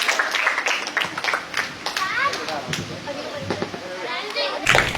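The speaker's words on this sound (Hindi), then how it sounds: "सब बच्चों ने बहुत अच्छा करा, ताली बजाओ सब बच्चों के लिए" An audience claps for the children at a Gyan Danam Gurukul gathering: scattered, uneven claps mixed with chatter from the children and a voice, ending in a louder burst of applause.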